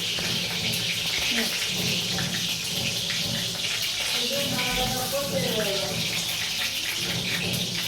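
Loud, constant crackling sizzle of wet eggplant frying in hot oil, dense and spattering throughout, with faint voices in the background.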